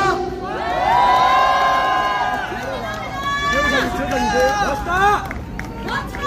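A crowd at an outdoor student rally in Marronnier Park cheers and whoops loudly, with shouting voices and babble swelling and fading across the crowd, clapping mixed in.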